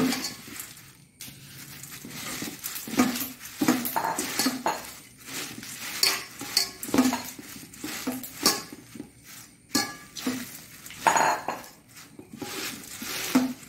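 Spiced masala being mixed into beaten rice for Mangalorean masala avalakki, with a spoon clinking and scraping against a metal vessel in irregular bursts and no talking.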